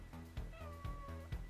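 Kylo, a pet cat, meows several times in a row, each call short and close, with brief pauses between them and nothing else heard.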